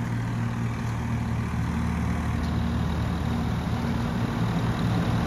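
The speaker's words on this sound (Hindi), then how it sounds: "अब आवाज़ निकलनी शुरू हो गई है ट्रैक्टर की" Swaraj 855 5 Star 4WD tractor from 2023, pulling a straw reaper, its engine straining under load with a steady, loud, low diesel drone and a constant hum.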